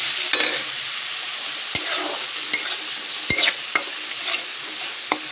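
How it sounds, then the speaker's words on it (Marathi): Onion frying in oil in a home kitchen, a steady soft sizzle with a few sharp clicks of a spoon stirring the pan, no voices. "आपला कांदा हा मस्त तळायची"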